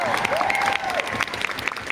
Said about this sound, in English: a huge big round of applause